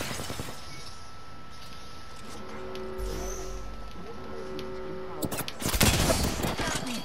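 Gunfire in the battle royale game Apex Legends, a mix of shots, bursts and sharp impacts with a loud flurry near the end, set against game music and effects.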